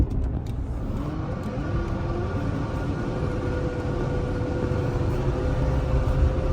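A car coasts over a hill with the driver's foot off the gas, giving a steady low road and engine drone with tire rumble, even and continuous with no talking.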